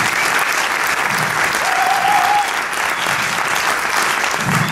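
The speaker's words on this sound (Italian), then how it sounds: "grazie a tutti voi, un applauso a tutti" Audience applause after a puppet show, dense and continuous clapping filling the whole stretch at a steady, loud level, with a brief whistle or cheer partway through.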